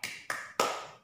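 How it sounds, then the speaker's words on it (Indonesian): Three sharp hand claps ring out in a quick rhythm, the last slightly louder and trailing off, from a primary school class doing a clapping chant, with no voices over them. "Mulai dengan tepuk anak soleh."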